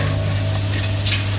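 Almond flakes tipped into a pan of cooking semolina halva, giving a steady, close sizzle and frying hiss with a low hum beneath and a faint scatter of small impacts, no voices.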